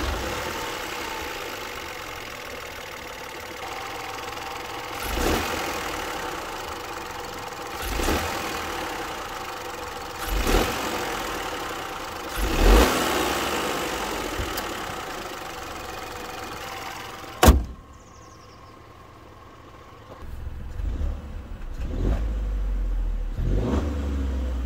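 A Peugeot 308 1.2 PureTech 130 inline three-cylinder petrol engine idles steadily, with several sharp revs rising and falling, a loud clunk, then a quieter idle before more revving; no talk.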